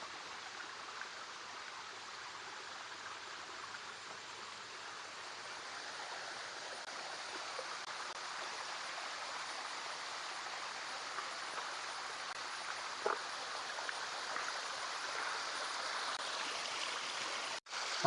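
A small hidden waterfall and flowing stream pour in a steady, unbroken rush of water that holds at an even loudness throughout, with no voices.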